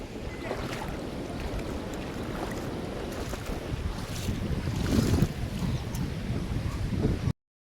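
Fast-flowing water rushes at the Kallanai dam on the Kaveri river as a broad, constant roar mixed with heavy wind buffeting the microphone. The sound swells slightly midway, then cuts off abruptly.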